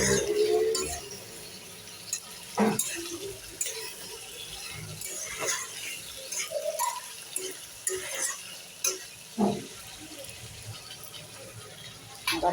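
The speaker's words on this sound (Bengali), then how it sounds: "মাংসটা ঢাকনা উঠিয়ে একটুখানি কেটে দিচ্ছি।" Mutton curry gets stirred in a cooking pot after the lid comes off, with intermittent scraping and wet sizzling clinks of the spoon at an irregular rhythm, close and moderately quiet.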